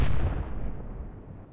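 A warship's big gun fires once in the Atlantic Fleet naval game, Battle of the Atlantic, a deep booming blast with a long rumbling decay, loud and unaccompanied.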